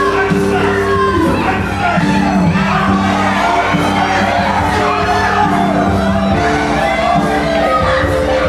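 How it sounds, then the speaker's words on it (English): Professional wrestling crowd at a Battle Arts show, loud and continuous shouting, yelling and jeering from many fans after a controversial title result, a dense wall of voices filling the whole stretch. "fans screaming obscenities, upset at what happened here today, what transpired"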